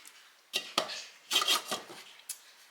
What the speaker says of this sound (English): So I'm going to put the lid back on